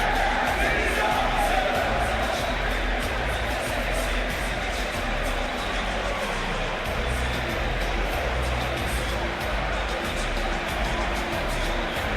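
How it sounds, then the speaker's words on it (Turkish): Football supporters chanting in a stadium during the Trabzonspor–Samsunspor Black Sea derby, a dense, steady roar of massed voices that carries on without a break for the whole stretch. "Taraftarlar tezahüratlarını sürdürüyorlar."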